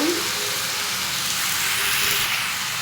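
Potatoes and cauliflower fry with salt and turmeric in a pan, giving a dense, continuous sizzle and hiss heard up close for a few seconds.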